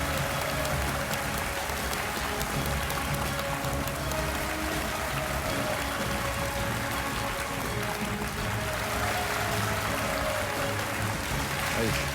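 Studio audience applause greeting a guest on a Hindi television show, a dense steady wash of clapping that holds evenly at moderate loudness for the whole stretch, with a low hum and some background murmur beneath it.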